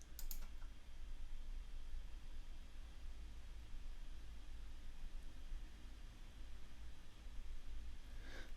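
Faint, sparse clicks of a computer mouse and keyboard sit over steady low room hum, with a cluster of clicks at the start and another near the end.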